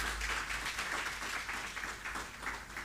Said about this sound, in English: Please give a big round of applause for Shashi Kumar.